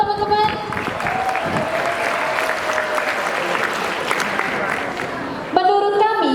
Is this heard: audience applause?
yes